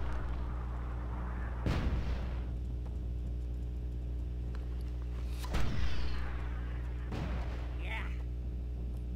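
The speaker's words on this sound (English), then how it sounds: "They're just going to get blasted by mortars." Mortar fire in a competitive strategy video game: a few sharp, booming impacts spaced several seconds apart over a low steady rumble, each blast with a short decaying tail.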